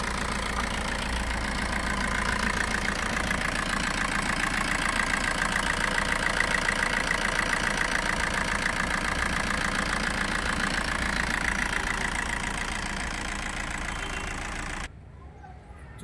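A 2013 Maruti Suzuki Swift Dzire ZDI diesel car engine idles with a steady, even chugging hum at close range, then cuts off abruptly near the end.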